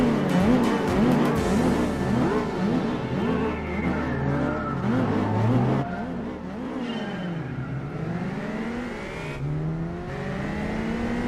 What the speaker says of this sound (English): Say both the Subaru Impreza and the RX-7 started very well off the line